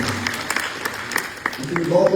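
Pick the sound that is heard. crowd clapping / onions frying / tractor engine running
crowd clapping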